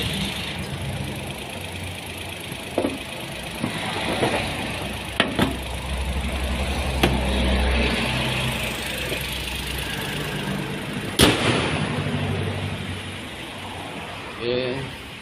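A car engine idles steadily while warming up after sitting unused, a low continuous hum with a few clicks and knocks on top, and some faint background voices.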